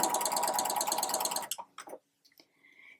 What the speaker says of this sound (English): And you're just going to sew down to that bottom edge.